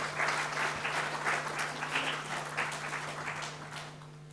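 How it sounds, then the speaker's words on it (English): Sustained audience applause at a Caribbean economic integration event, a dense steady wash of many hands clapping for several seconds that tapers slightly toward the end, with a low steady hum underneath. "A round of applause for him, please."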